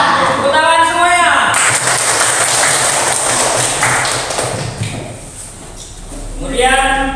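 A class of students clapping in an Indonesian school lesson, a burst of dense hand claps lasting several seconds between stretches of a teacher's talk.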